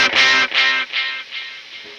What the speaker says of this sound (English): if I have a delay affecting a dirty, distorted guitar sound